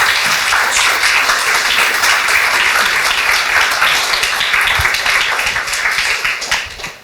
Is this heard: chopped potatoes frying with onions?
no